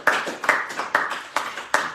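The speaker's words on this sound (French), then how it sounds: "Voilà, nous acclamons." A congregation at a church prayer service claps in a steady rhythm, five sharp bursts spaced about half a second apart, loud and close.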